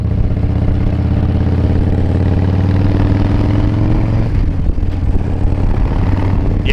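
A loud motorcycle nicknamed Big Papa idles close by with a deep, throbbing, steady rumble and a clattering texture that holds without a break.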